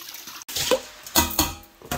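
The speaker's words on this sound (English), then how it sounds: "run some a little bit of hot water in there" Hot tap water runs in short bursts over minced beef being rinsed of starch in a kitchen bowl, with splashy clatter and brief gaps, close and fairly loud.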